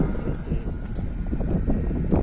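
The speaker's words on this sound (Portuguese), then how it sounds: "Vai sair algumas de vento, pessoal." Steady wind buffets the microphone on a steep, winding mountain road through the Serra dos Tucuns on the Ceará–Piauí border, a continuous low rumble with gusty swells throughout and no voices.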